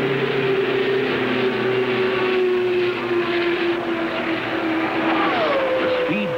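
A. J. Foyt's backup Indy 500 race car from 1976 runs at speed in practice at Indianapolis, with a loud, sustained high-revving engine drone that holds steady and then shifts pitch near the end; no one talks.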